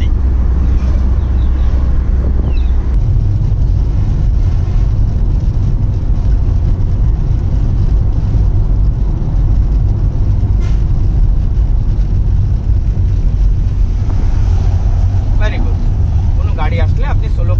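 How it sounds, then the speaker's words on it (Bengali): Car driving on a Dhaka highway, heard from inside as a constant loud road and engine rumble with wind noise, while people talk in the cabin. "ঢাকা হাইওয়ে রোডে আজকে তার গাড়ি চালাচ্ছে"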